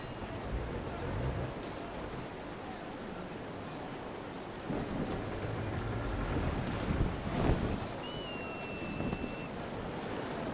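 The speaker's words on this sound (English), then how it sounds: "I'm letting my ship just kind of coast here" A sailing ship coasts with spilled, slack sails in the Naval Action game, carrying a steady bed of wind and washing water, with a faint creak or whistle near the end.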